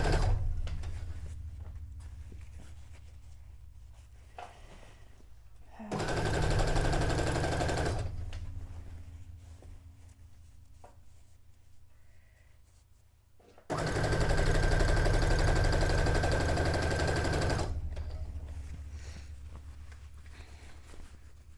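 Sewing machine stitching long green seams on a miniature townscape cone-shaped cape, two sustained bursts of rapid mechanical whirring separated by a quieter pause, close and steady, no voices.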